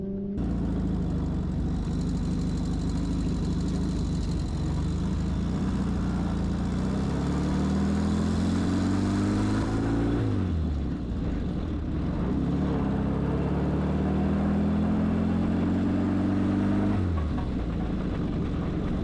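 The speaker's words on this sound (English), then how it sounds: "once you've got it, the engine really shows its grit. There is a massive power reserve." A 1937 Puch 800 motorcycle engine running steadily and loudly up close, its deep drone rising and falling through two long revving swells, with no voices.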